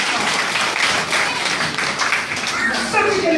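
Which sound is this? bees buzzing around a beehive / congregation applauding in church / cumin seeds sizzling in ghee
congregation applauding in church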